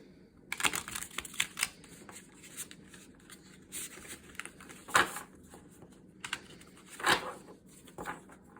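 A new deck of tarot cards is shuffled by hand in a quiet room, giving a series of crisp, papery riffles and slaps at irregular intervals, close and fairly soft.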